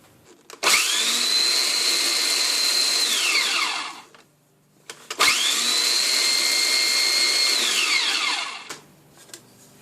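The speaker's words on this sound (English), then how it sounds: "What we want to do is put this in a food processor and just process it until it's crumbed." An Oster food processor grinds low-carb maple pecan granola into coarse crumbs in two loud, steady whirring pulses of about three and a half seconds each, separated by a short pause.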